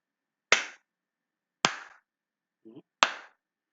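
Three light, separate hand claps ring out sharply and close by, spaced over a second apart, made to trip a sound sensor in an S4A classroom circuit lesson. A brief faint electronic blip comes just before the last clap.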